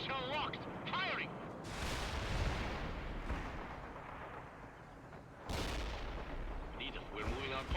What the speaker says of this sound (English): Missile locked. Firing.